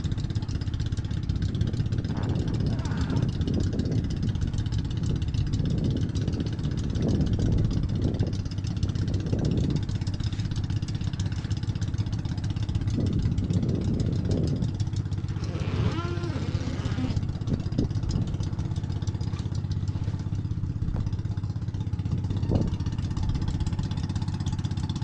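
A mother boat's engine keeps running with no one aboard, a steady, close mechanical drone that never lets up, with voices talking over it at intervals.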